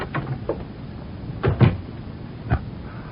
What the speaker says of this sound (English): We shall wait until the door closes behind you.